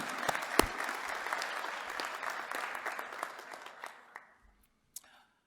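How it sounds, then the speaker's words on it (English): Graduates at a Dakota State University spring hooding ceremony applaud their families in an auditorium, a dense, steady clapping that thins out and fades after about four seconds, leaving a few scattered last claps. "Graduates, an applause for your family."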